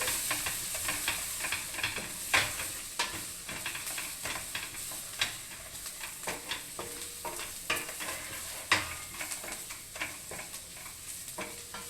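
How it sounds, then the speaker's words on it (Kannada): Garlic fries in a pan, giving a moderate continuous sizzle with frequent sharp spatter pops and light stirring clicks. "ಈಗ ಬೆಳ್ಳುಳ್ಳಿ ಫ್ರೈ ಆಗಿಬಿಡ್ಬೇಕು"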